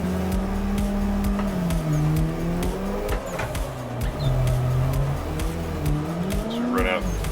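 Race car engine in a sim racing game, heard from the driver's seat, droning loudly as the throttle is feathered, its pitch rising and dipping with brief faint tire squeal late on.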